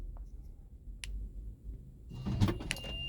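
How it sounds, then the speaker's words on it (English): 2012 Honda Odyssey power trunk door opening, faint clicks followed by a soft motorized whir and latch sounds near the end, heard close up in a quiet setting. "You see the door trunk is opening."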